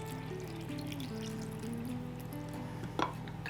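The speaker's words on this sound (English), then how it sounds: "I just fill it with some water" Water trickles steadily into a container of drained olives, a soft, continuous pour heard close up, ending in a brief splash near the end.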